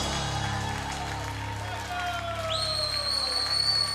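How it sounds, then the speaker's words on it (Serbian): Audience applause and whistling at a live concert at the CMC Festival, a crowd clapping under a talking voice, with shrill whistles rising partway through. "Jaki aplauz za moj band"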